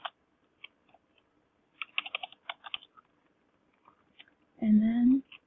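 Keys clatter on a computer keyboard in short, sparse bursts while entering a file download label, light and close, followed by a brief low muffled sound at the end.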